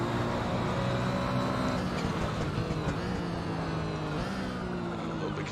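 Porsche 911 GT1 race car lapping in the Assetto Corsa racing game on an out lap, its engine a steady drone with shifting harmonic pitch through gear changes and a sharp rise near the end.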